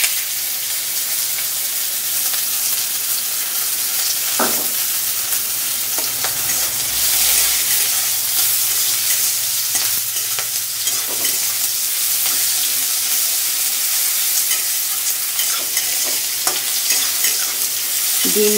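Chopped onion frying in oil for a Bengali masala egg curry, a steady close sizzle with occasional stirring scrapes throughout, no talking.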